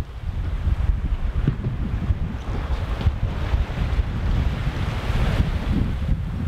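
Wind and sea waves on a sailing boat underway off the Normandy coast, the wind coming from behind; a continuous loud rush of wind buffeting the microphone over surging water and hull wash, with no voices.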